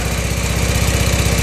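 A Honda Pacific Coast motorcycle converted to fuel injection idles close and loud, its engine firing in a fast, even pulse.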